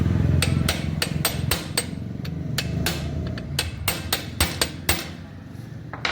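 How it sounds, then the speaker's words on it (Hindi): Repeated hammer blows strike a tight screw on a sewing machine to loosen it: about a dozen sharp, close metallic taps at an uneven pace over a low background hum. "इसको खोलने के लिए इस पर चोट मार लेंगे थोड़ी"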